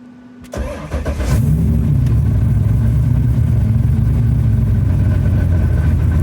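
A Corvette Z06 on a Haltech Nexus engine-management build starts up and settles into a loud, steady running rumble close by, with a brief rising rev at the start and no talking.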